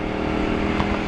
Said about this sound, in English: it's a V-twin engine on the Gladius 400